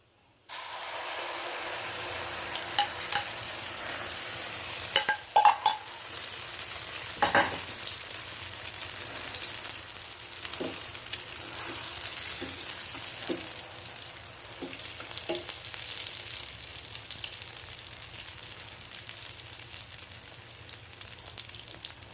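An egg sandwich fries in a little oil in a pan over a low flame, a soft continuous sizzle with a few scattered clicks and scrapes, heard alone and close.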